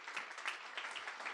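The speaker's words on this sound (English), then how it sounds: "You can give him a round of applause" Brief burst of audience applause at a meetup, a dense wash of clapping from a small crowd welcoming a guest to the stage, steady and moderately loud throughout.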